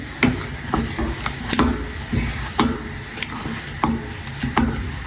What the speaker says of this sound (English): I have to admit that it's a bit exhausting to keep on mixing